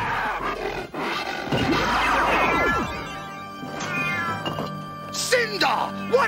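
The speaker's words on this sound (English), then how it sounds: "There is a cat here somewhere." A cat meows in the 1987 animated series Visionaries: Knights of the Magical Light, a drawn-out wavering cry in the middle of the scene, with character voices and background score around it.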